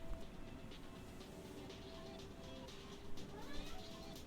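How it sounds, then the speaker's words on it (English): A cat meows in Car Mechanic Simulator 2021, giving a few soft, close cries over a steady background hum, with a slightly louder burst near the end. "And then there's the kitty."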